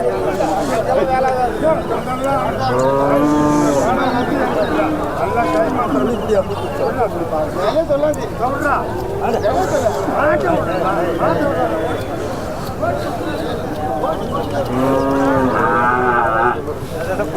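Cows moo repeatedly at a busy cattle market, several loud, drawn-out calls rising over a steady background of chatter and crowd babble.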